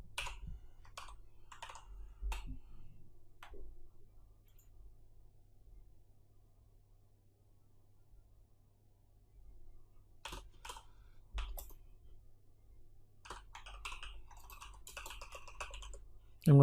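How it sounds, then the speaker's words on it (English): Someone types on a computer keyboard while writing PHP code: quiet, close keystrokes come in short irregular bursts separated by pauses, with a denser run of clicks near the end. "I'm going to type"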